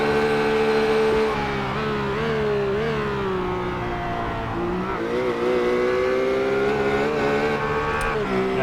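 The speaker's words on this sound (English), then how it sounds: "his car looks tremendous down Conrod and up Mountain Straight as well" V8 Supercars race car at speed down Conrod Straight on a mountain circuit, a sustained, loud engine drone with a wavering harmonic pitch rising and dipping through gear and throttle changes.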